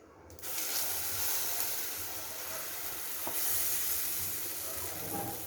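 Seasoning hits hot oil in a pan for a vazhai poo paruppu usili, bursting into loud sizzling that stays steady and hissy for several seconds, with a couple of small pops and spatters.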